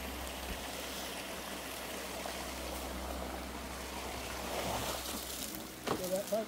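Water rushing steadily through a trough into a 4-inch pipe outdoors, a continuous loud stream-like flow with splashing surges near the end.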